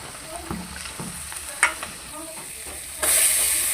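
Cut vegetables with salt and turmeric fry in oil for an eggplant and potato curry, sizzling under scraping stirs, with a couple of sharp clanks and a louder hissing surge near the end.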